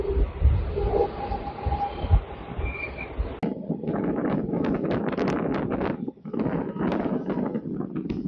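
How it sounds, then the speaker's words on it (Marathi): Mumbai local train running between Dahisar and Dadar: a low rolling rumble at first, then heavy gusting wind buffeting that largely masks the train's movement. "दहिसर ते दादर हा प्रवास लोकल ट्रेनने झाल्यानंतर"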